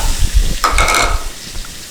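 Onion dropped into hot oil in a deep pressure cooker for kappa biriyani bursts into a loud sizzle about halfway through, with stirring scrapes and clatter before it and steady frying hiss after.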